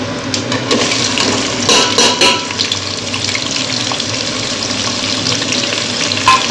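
Onions and green chillies fry in hot ghee with garam masala for Rayalaseema-style chicken biryani, giving a dense, steady close-up sizzle with a few brief louder bursts and no talking.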